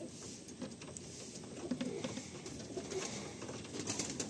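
A Madrasi pigeon coos softly nearby in a few low, throaty bursts over quiet background noise.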